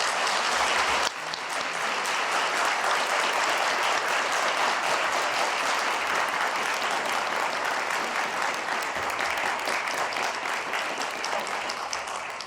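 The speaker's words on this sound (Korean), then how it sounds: "우리 다시 한번 큰 박수 부탁드립니다" An audience at the 56th National Prayer Breakfast in Korea breaks into loud, sustained applause, a dense, even wash of clapping that fills the hall from start to finish.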